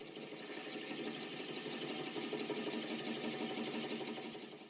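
A wood lathe spins a spalted maple natural-edge bowl with a steady close mechanical whir and a fine rapid pulsing hum, unbroken throughout.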